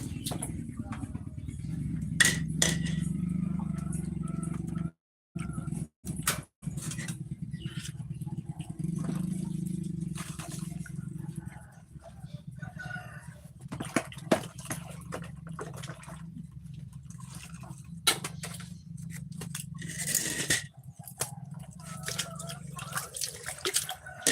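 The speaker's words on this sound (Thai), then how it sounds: "จานเด้อพี่น้อง เสียงดังนิดนึง นั่งล้างจาน" Dishes are washed at a sink in a rural home in Buriram, Thailand, with running water, clinks and clatters of plates under intermittent nearby talking.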